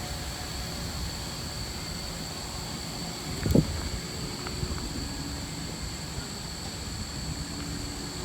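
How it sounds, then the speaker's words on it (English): Wind blows steadily across a state park campsite, a soft continuous broadband rush with faint hum, interrupted by a single brief knock or thump midway. "Getting kind of windy here."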